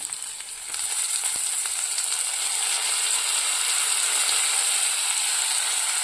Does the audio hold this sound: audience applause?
no